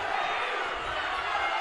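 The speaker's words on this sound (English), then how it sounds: "Wow, the Valley crowd is now into it." A Valley home crowd roars steadily at a high school basketball district championship game, a broad, dense cheer filling the gym, with a commentator talking over it.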